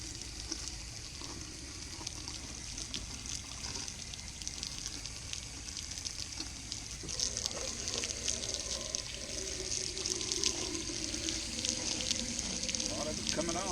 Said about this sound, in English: Spray off with water.